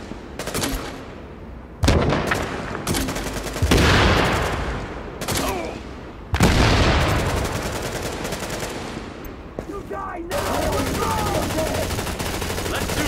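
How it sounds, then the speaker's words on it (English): Frag grenade blasts and gunfire in the shooter game Tom Clancy's The Division come in loud, sudden bursts that roll off and are followed by further volleys of rapid shots, with a voice faintly underneath. "Tossing frags."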